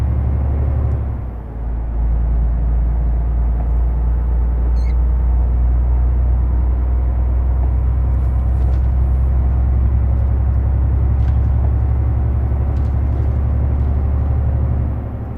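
Inside the cab of a Ford F-Max truck driving Nordic roads through heavy snow in Euro Truck Simulator 2, a loud, steady diesel engine drone rumbles deep and constant with little change throughout, no voices.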